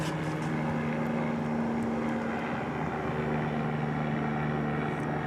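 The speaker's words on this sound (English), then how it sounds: "I'm hearing what sounds like a helicopter." A helicopter passes almost directly overhead at night near Dallas Love Field, a steady engine drone with a low rotor-like hum, continuous and moderately loud with no other sounds.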